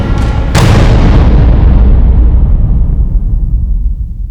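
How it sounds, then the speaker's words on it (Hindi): A loud, close explosion blast with a sharp crack followed by a heavy, rumbling boom that rolls on for several seconds, decaying slowly without any voices. "सर मैंने धमाका सुना"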